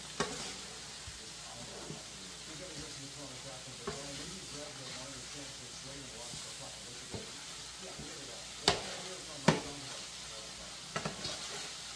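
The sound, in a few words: mixing chicken tortellini on a griddle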